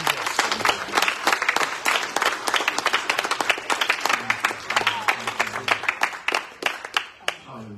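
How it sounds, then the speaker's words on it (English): A church congregation claps together in a quick, fairly regular rhythm, the sharp claps close and lively. Faint voices call out beneath them, and the clapping thins into a few last claps at the end. "just clap unto the Lord."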